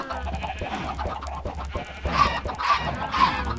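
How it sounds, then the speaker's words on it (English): Several Minecraft video game chickens clucking and squawking in quick overlapping bursts, close and fairly loud, with a few sharper calls toward the end. "Those chickens are loud."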